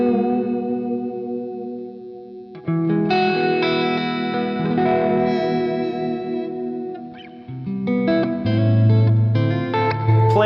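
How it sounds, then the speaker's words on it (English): Electric guitar played through a plate reverb pedal, the chords and single notes ringing out with a lush, spacious wash. It is loud and steady, with a brief dip in level mid-phrase and a thicker, louder passage near the end. "Now next you have a plate reverb."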